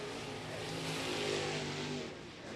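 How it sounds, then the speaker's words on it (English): Race car number 257 at Lake Cumberland Speedway throttling up during qualifying, a loud sustained engine roar that swells and holds before easing slightly at the end, heard fairly close with no talk. "So is Skylar Marlar is going to be getting that car all throttled up in that number 257 machine."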